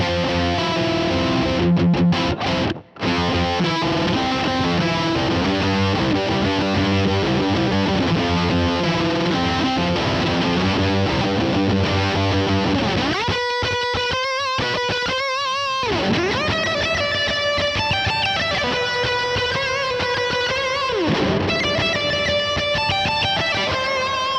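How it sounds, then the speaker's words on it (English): Electric guitar run through a distortion pedal on a pedalboard, playing loud, continuous sustained chords and riffs with a thick saturated tone, the character shifting midway to brighter, more effected lines. "So I love running it into distortion, into overdrive."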